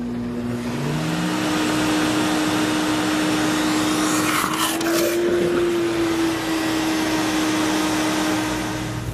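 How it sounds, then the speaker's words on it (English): Sirena water-filter vacuum cleaner running as a wet pickup vac, a loud steady motor whine with a continuous airy roar, pitch rising slightly midway with a brief gurgling surge, close and constant throughout. "The Sirena will also function as a wet pickup vac."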